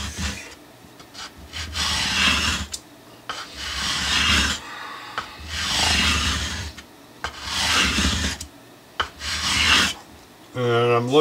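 Sandpaper rasps over the frets of a Stratocaster guitar during fret leveling, in repeated long scraping strokes with short pauses between them, close and loud, with no voice.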